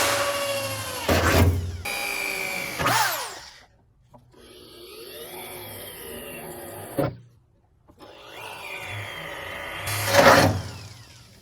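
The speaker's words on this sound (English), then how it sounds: "How about I just drill them?" A power drill whirs in several separate bursts while drilling holes in metal on a Chevy Nova, winding up and down, with short pauses between runs and some louder scraping moments.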